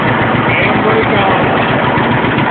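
A 1947 John Deere Model D tractor engine idles close by, with a steady, loud low rumble and vibration that runs unbroken through the whole stretch, with no clear talk over it.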